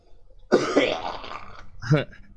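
A man coughs close to the microphone: a harsh burst, then a rough, throat-clearing stretch and a second, shorter cough about a second and a half later.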